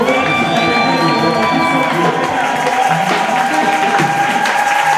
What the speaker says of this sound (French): Manifestons donc notre joie en acclamant encore